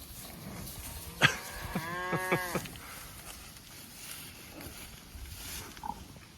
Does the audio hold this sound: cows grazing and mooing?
yes